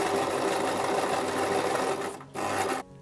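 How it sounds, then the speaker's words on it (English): A sewing machine runs steadily while stitching a folded backpack handle made from a jacket, a close, continuous rapid whirring that stops briefly, restarts for a short burst, then cuts off. "Now I'm going to fold the rest of the handle in half and stitch that in place."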